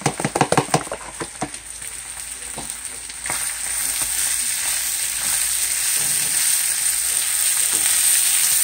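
A whole onion drops into saltfish and red herrings frying in a pan, a quick burst of knocks and clatter at first, then the sizzle swells into a loud, steady hiss, close with no voices.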